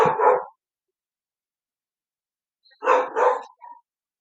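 Puppies barking in a room, a short burst at the start, then a pause and a quick pair of yappy barks with a small trailing yip, near and fairly loud.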